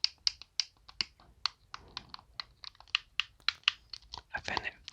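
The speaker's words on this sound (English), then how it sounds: "I find that these buttons are a lot more clicky." Xbox controller buttons are clicked in a rapid, uneven series of crisp, close clicks, some doubled, filling the whole stretch.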